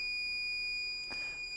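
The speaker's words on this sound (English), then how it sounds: "When it reaches 41, this buzzer will buzz." A 5 volt buzzer alarm sounds as a steady, thin high-pitched electronic tone running the whole time, faint and alone with no talking.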